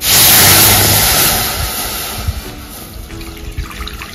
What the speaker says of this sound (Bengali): এতে আমি দিয়ে দেবো 4 কাপ মতো জল